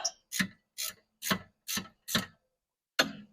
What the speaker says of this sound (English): I want to kind of just snug it up my ratchet wrench here a little bit.